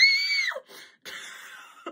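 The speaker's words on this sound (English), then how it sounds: "I don't know why I'm screaming, y'all." A person screams excitedly while unboxing a new iPhone 15 Pro Max in titanium. A loud, high scream comes first, then a second, hoarser scream and a brief breathy cry, close to the microphone.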